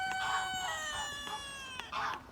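A rooster crows repeatedly among farm birds at morning feeding time, clear harmonic calls rising and falling at moderate distance with faint clucking between them.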